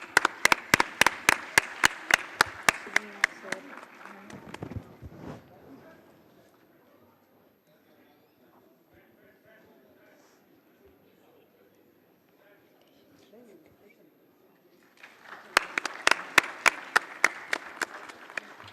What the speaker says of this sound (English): please have a huge round of applause for them